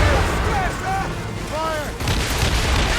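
Ship cannons fire in Assassin's Creed Rogue during a naval battle, heavy booms rolling under shouted orders and voices, with a louder volley breaking in near the end.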